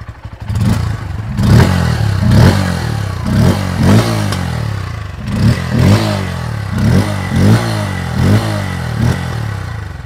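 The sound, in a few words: motorcycle engine starting and revving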